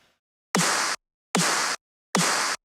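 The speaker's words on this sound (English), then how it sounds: "if I just remove the vocoder down here, you'll just hear the snare." A snare drum struck three times at an even pace, each hit a sharp, hissy burst that holds briefly before cutting off into silence.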